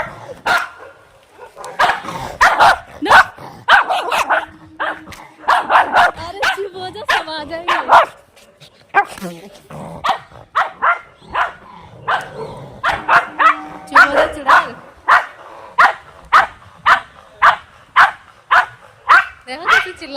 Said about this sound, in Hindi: अरे जो आ गए कुत्ते, आ गए कुत्ते, अब तुझको काटेंगे सब।